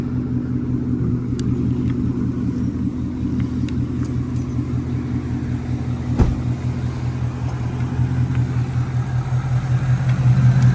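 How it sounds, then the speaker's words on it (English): A Ford Mustang Bullitt V8 engine idles with a deep, steady rumble that lasts the whole time, close by, with a few faint clicks and taps. "That engine sounds really good."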